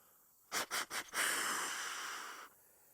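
A hunter imitates a buck's snort-wheeze with a deer call: three sharp, quick nasal snorts followed by a long, drawn-out hissing wheeze, close and loud against near silence.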